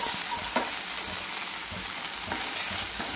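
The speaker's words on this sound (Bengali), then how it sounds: "একসাথে না, আমি নাড়ছি, তুই দিতে থাক।" Chili garlic sauce is stirred into food frying in a pan, a continuous hissing sizzle broken by scraping stirring strokes, close and loud.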